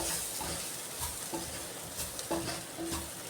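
Chickpea dry roast with pepper powder being stirred in a pan, with a low steady sizzle and intermittent scraping and clinking of the spoon against the pan, close by.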